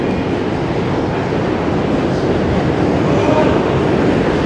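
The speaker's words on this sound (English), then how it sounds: "The rumble you're hearing is the train passing through." New York subway train rumbling past, a loud, steady, dense roar of wheels and cars filling the whole stretch without pause.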